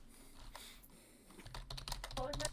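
Typing on a computer keyboard comes through as quiet, rapid clusters of close key clicks that grow busier and denser toward the end, with no voices.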